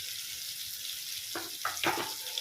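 A little water poured onto turmeric, chili and coriander powder in a hot pan, a steady background hiss, then a brief burst of splashing and bubbling near the end.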